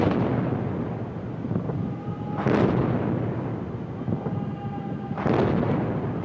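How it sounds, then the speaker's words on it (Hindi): Cannon of a 21-gun salute for President Obama's arrival, two deep booms a few seconds apart rolling out over steady crowd and ambient noise. "the booming of the 21-gun salute"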